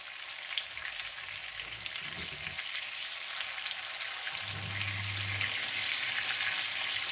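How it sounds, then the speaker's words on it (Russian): Meat cutlets fry steadily in a pan, a continuous close crackling sizzle with bursts of spattering and a low hum from the stove running underneath. "пока мы с вами до такой румяной корочки обжариваем котлетки."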